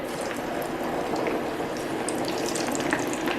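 Onion bhajis made with low-carb Panda flour deep-fry in a fryer of hot oil, five at a time, giving a steady, dense bubbling crackle and hiss that holds close and even throughout, with no talking.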